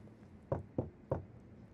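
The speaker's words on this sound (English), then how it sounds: "Let's knock a little harder." Three firm knocks on a door in the video game Detroit: Become Human, evenly spaced and close, standing out against a quiet background hum.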